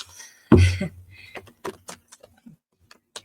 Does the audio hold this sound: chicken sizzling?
no